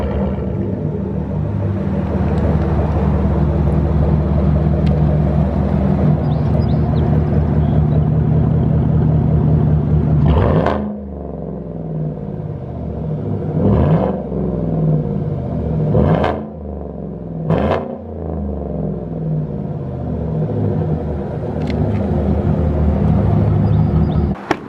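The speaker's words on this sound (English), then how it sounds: "we're gonna start the truck up here real quick before the end of the video, and I'll let you guys hear the sound of the exhaust" The exhaust of a 2014–2018 Chevrolet Silverado Z71 with a 5.3L V8 rumbles up close, loud and steady, broken by several sharp throttle blips and revs over about 25 seconds.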